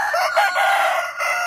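A Vietnamese hầu bò rooster of the tích Phật type crows once, a loud close call that rises and holds with a brief break before trailing off, with no talk over it.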